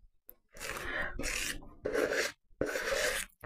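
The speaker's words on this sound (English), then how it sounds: "I do apologise for any sort of noises that you might hear with the scraping of that" A spatula scrapes cake mixture out of a bowl in four long rasping strokes separated by short pauses, loud and close with no voices.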